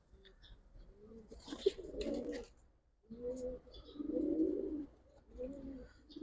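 Giribaz pigeons, a pair of fancy pigeons at a market, coo in soft repeated throaty bursts with short pauses between them, close by and moderately loud.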